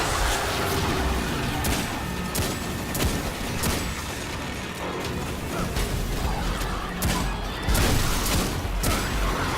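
Rapid bursts of gunfire from shooting in the video game Destiny 2 crack out repeatedly over a dense wash of game effects and music, with sharp transients scattered throughout.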